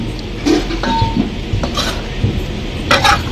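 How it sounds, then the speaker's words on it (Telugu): Chili powder being stirred into a country chicken pickle, a spoon clinking and scraping against the pot in a few distinct knocks, loud and close, with no talking. "ఇదిగో చివర్లో కారం, కారం వేసి కలుపుకుంటున్నా."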